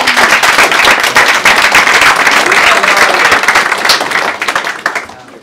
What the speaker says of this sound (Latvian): Jā, aplausus Anitai!